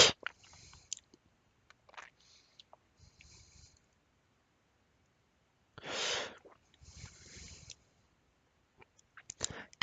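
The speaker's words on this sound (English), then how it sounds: "I didn't mean to chew in your ear." Gum chewed right up against the microphone, loud wet smacks and clicks in short irregular bursts separated by silence, with one longer breathy rustle midway.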